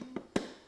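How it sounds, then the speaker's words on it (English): Lid of a Sage ice cream maker being shut: two quick, light knocks, a faint tap followed by a firmer closing thud, close by and quiet. "Shut the lid"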